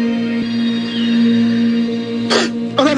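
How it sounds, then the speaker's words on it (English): A person clears their throat with two short, rough bursts close to the microphone over a steady electrical hum. "clear your throat"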